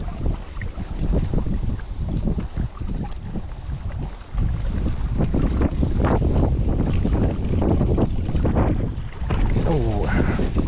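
Strong wind blows across an open boat while a person casts for white bass, roaring continuously and buffeting the microphone with loud rushing gusts that nearly mask everything else.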